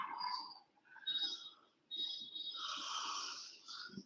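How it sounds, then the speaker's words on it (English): A person yawns loudly during an online social studies class, one long drawn-out vocal yawn broken by a short pause and then a second, longer stretch, close to the microphone with no other talk. "I'm so sorry, I'm yawning today badly."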